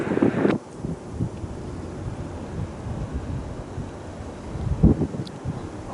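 Gusty wind at a Cleveland airport rumbles steadily against the microphone with a few brief stronger buffets, low and continuous throughout, with no voices.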